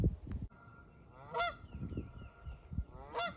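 Two loud, nasal goose honks ring out about two seconds apart over a low rumble of outdoor background noise in a wetland park.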